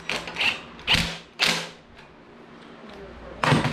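A ratchet tightens the front wheel of a home-built mini bike, several short bursts of clicking cranks close by, separated by pauses with faint background noise.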